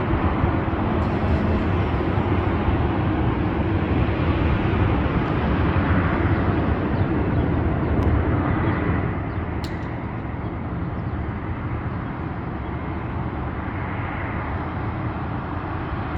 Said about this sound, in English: And then we got Delta 2287, 737, 800, possibly 900.